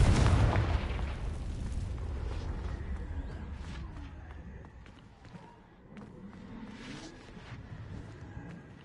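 A Confringo fire spell explodes in Hogwarts Legacy with a loud, deep boom at the start. A long rumbling decay follows, and scattered crackles and smaller thumps trail off behind it.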